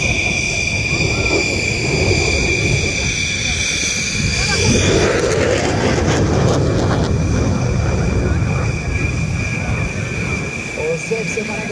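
A Hellenic Air Force F-16 named Zeus banks through a hard turn at an air show. Its engine roar is continuous and loud, and a burst of broadband noise swells midway as the jet passes.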